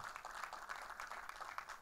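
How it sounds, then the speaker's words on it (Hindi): Audience applause at a film trailer launch event for a Punjabi comedy, a steady wash of many hands clapping at moderate level throughout, with no voices on top. "एक बार जोरदार तालियां हो जाएं।"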